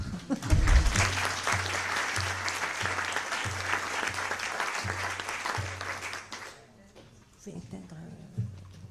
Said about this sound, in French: On applaudit ou pas?